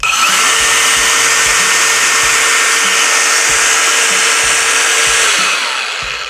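DeWALT 407 cordless angle grinder on a fully charged 5A battery, running close and loud at a steady high-speed whine for about five seconds before starting to wind down.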